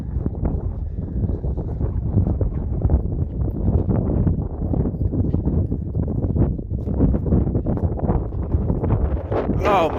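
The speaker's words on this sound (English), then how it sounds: "Very breezy." Wind on a breezy outdoor walk gusts hard against the microphone, producing loud, continuous buffeting rumble with no pause from start to finish.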